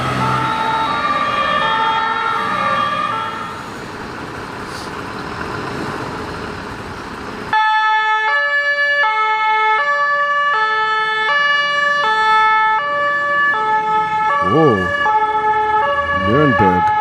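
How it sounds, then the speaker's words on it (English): German fire engines in a convoy rolling down a road, a dense wash of traffic noise giving way to loud, steady two-tone sirens, with a couple of brief horn-like blasts near the end. "Germany, you got giant convoys of trucks going down the road."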